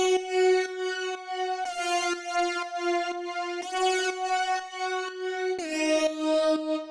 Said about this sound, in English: we have this kind of guitar saw hybrid sound